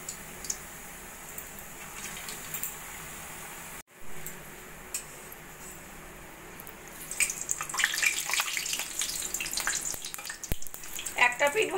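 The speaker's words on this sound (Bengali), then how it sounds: "এবার আমি একে একে স্প্রিং রোলগুলো ভেজে নেব।" Spring rolls going one by one into hot oil in a kadai, building to a loud, steady crackling sizzle in the second half after a quieter start.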